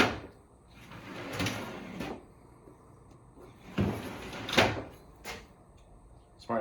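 A custom slide tray carrying a 12V fridge in a 1995 Ford camper van rolls in and out, giving several sliding scrapes and knocks in separate bursts, each ending with a sharp clunk, close and fairly quiet.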